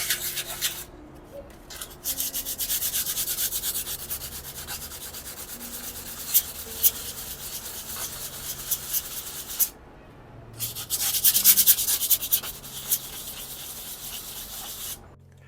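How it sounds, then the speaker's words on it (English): Steady abrasive sanding strokes rasp against a carbon bicycle fork steerer tube, with short pauses between passes and a rougher, louder burst near the end. "now we just have to do some post-processing on sanding down this portion because it's a bit rough"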